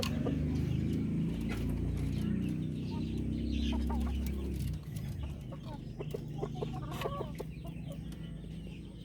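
Darag chickens on a chicken farm cluck steadily and close by, with a continuous low rumble beneath the birds through the first half.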